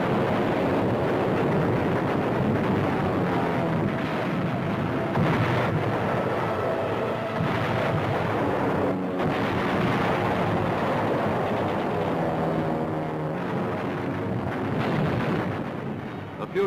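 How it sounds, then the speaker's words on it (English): Heavy WWII aerial bombardment of fortified islands in Truk Atoll by a large bomber force, a continuous loud roar of explosions and aircraft rumble with no pause throughout. "Every fortified island in the Truk Atoll is given a thorough blasting by a sky armada of overwhelming force"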